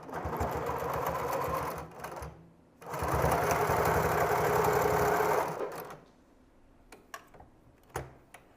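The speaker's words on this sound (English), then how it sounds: "Line the corners up here and sew them down." A sewing machine stitching the back and front pieces of a baby jacket runs in two long, steady bursts with a short pause between them, then stops for scattered clicks and handling taps.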